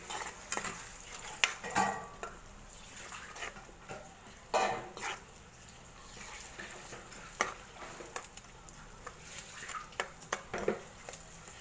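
A spoon scrapes and knocks against a pan while a roselle and bamboo shoot stir-fry is turned, producing irregular stirring clatters over a soft, steady sizzle close by.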